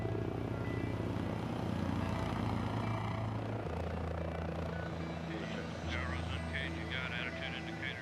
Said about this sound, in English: Taking off and landing like a helicopter, its engines can pivot forward in flight, turning a helicopter into a high-speed airplane.